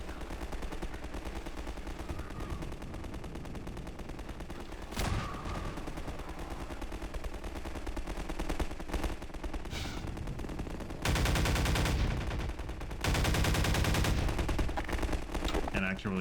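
Gunfire rattles through a Half-Life 2 firefight, a steady stream of shots under a dense game soundscape with two loud sustained bursts near the end; a voice talks briefly in the mix.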